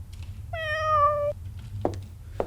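A cat in the video game Concluse 2 gives one drawn-out, clear meow, followed by a couple of soft knocks or thumps against a low background hum.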